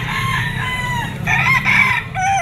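A large two-year-old white Kelso bloodline rooster at a poultry market crows close and loud in one long, strained call that rises and trails off, alone without talk.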